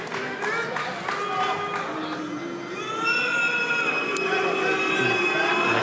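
Fight crowd at an FCR 24 x BOB14 MMA event grows noisy with displeasure, a broad roar and scattered shouts that swell louder midway and carry on steadily, with whistles cutting through.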